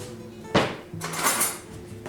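Metal kitchen utensils rattle and clink as a whisk is pulled from a crock or drawer, a sharp clatter followed by a longer jangling shuffle, close and fairly loud with no voices.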